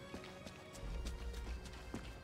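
Footsteps in the video game Sniper Elite 5, a quick run of distinct thuds repeating about every third of a second over a low rumbling background, with no speech.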